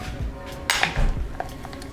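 A spoon clinks and scrapes inside a cup of icy slushy, giving a quick cluster of close, light metallic taps and one brief rattle in a quiet room with no talking.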